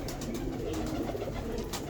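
White pigeons cooing steadily at close range, a low continuous murmur of overlapping coos with no pauses and no voices.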